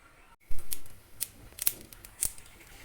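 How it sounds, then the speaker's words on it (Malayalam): Mustard seeds drop into hot coconut oil, setting off a short burst of sizzle followed by a few sharp, scattered pops and crackles, close and fairly quiet. "എണ്ണ ചൂടായതിനു ശേഷം ഒരു സ്പൂൺ കടുക് ഇട്ട് കൊടുക്കുക."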